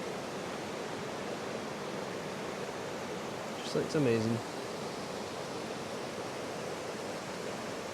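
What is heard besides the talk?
river rapids rushing over rocks, Glen Orchy, Scottish Highlands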